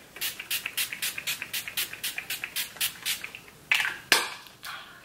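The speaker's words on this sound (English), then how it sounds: "I'm just gonna spray my face with the Urban Decay setting spray" Rapid bursts of an Urban Decay makeup setting spray hissing onto a face in a steady rhythm, about a dozen quick pumps close by, ending with a couple of longer sprays.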